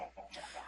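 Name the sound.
chickens clucking in video game Minecraft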